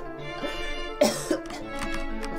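A man coughing as a sound effect in the horror game Ib: a short burst of coughs with a second cough right after, heard over a quiet droning game soundtrack.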